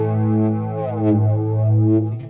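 A PastFx 80/A flanger pedal with its Harmonics switch engaged colours a sustained, buzzing harmonic tone with a slow, sweeping jet-like whoosh that rises and falls, steady and loud throughout.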